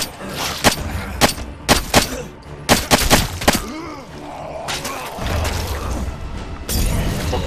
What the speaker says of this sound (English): Fucking fire bombs.